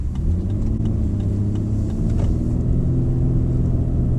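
Lexus LX600 SUV cruising on a road, heard from inside the cabin as a steady low engine and road rumble with faint tyre noise and no voices.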